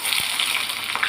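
Mustard seeds and onion crackle in hot oil for a fish kulambu tempering, a steady close sizzle with a couple of soft pops, and no voices.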